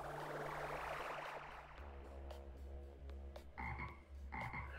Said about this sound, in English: What? It's a frog!